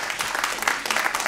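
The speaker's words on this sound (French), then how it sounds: "voilà Mathieu, on peut l'applaudir." Audience applause at a French-language presentation, a dense, steady patter of many hands clapping together in a brief burst.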